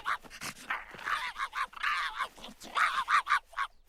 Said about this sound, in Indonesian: dia menggonggong seperti itu saat dia melihat tupai